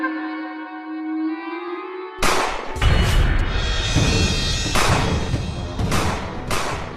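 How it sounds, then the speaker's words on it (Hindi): Gunfire in an animated cartoon: a sustained tonal note cuts off into several loud, sharp bursts of shots spread over a few seconds, with no talk over them. "ये गोलियों की आवाज है।"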